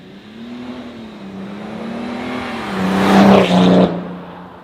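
A fast wagon accelerating hard on a race track, engine pitch wavering then climbing to a loud revving peak near the end, close and alone without talk.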